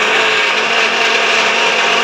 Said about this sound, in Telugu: మెంతాకు, ఒక చింతపండు మిక్సీ పట్టుకోవాలి